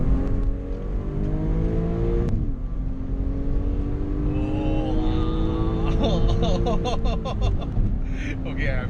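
A tuned Audi S4 making 400 hp and 535 Nm accelerates hard, heard from inside as the engine note climbs steadily through the gears with a brief dip at a shift. People talk excitedly over the engine.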